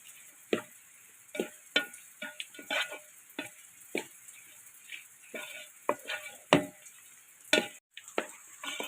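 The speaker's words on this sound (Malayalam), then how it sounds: "ഇനി നമ്മുടെ മസാല പുരട്ടി വെച്ച ചിക്കൻ ഇട്ട് കൊടുക്കുക." Masala-marinated chicken pieces fry in a pan for a home-style roasted-coconut chicken curry. A spoon stirs with irregular clinks and scrapes over a soft, steady sizzle, fairly quiet and close, with no talking.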